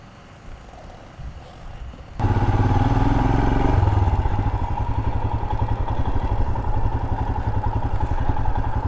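A Royal Enfield Himalayan motorcycle starts up loud and close on South Carolina back roads, settling into a steady, throbbing engine rumble after a quieter opening.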